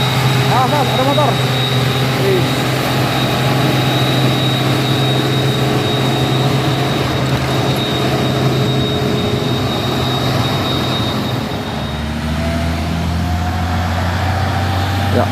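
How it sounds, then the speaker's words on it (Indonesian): A heavily loaded Hino trailer truck labours up a hill at Bukit Kodok, its engine giving a loud, steady, close drone that holds for the whole stretch, with voices faintly mixed in. "Ya, ada truk trailer Hino bermuatan berat"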